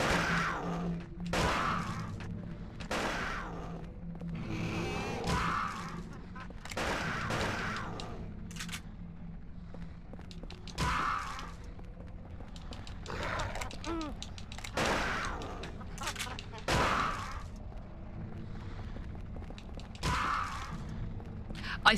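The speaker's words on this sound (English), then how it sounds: "I just wasted several bullets by shooting at the sky" Gunshots fired upward in the video game Silent Hill 4, a series of sharp blasts spaced a few seconds apart, moderately loud among game ambience, with people talking over them.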